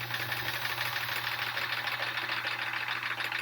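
A domestic sewing machine stitches rows on a Triangle Tango quilt, its presser foot tension eased, giving a steady close mechanical whirr with a faint rapid needle chatter that runs evenly throughout, no voices.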